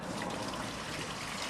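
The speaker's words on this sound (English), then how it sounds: "We go to the bottom and open up the valve if I can. Now as you will see, the water coming out of here" Dirty water gushes steadily from an opened valve at the bottom of a koi pond filter, a close, continuous splashing rush.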